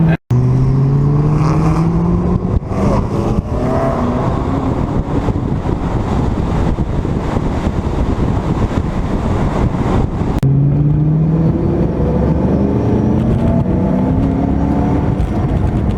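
A supercharged 2006 Ford GT drives steadily, its engine droning loud and close with constant road and wind noise, and the pitch rising as it accelerates.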